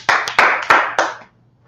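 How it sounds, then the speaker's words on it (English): Four sharp hand claps in a steady rhythm from a church class gathering, close and fairly loud, followed by a moment of quiet with no talking. "Clap it up for the class."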